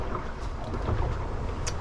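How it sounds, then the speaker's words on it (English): Wind buffets and rushes over the microphone on a sailboat at sea in a steady low roar, with water sloshing faintly underneath. "we still have wind on our nose"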